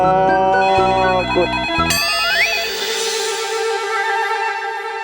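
A mobile phone ringtone plays loudly and continuously, a bright electronic melody with layered tones and rising sweeps, heard alone with no talking.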